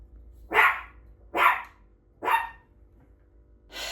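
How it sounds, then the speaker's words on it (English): A dog barks three times at an even pace, loud and close, then starts a fourth bark at the end, with no talking. "Sorry about that, Ben was barking."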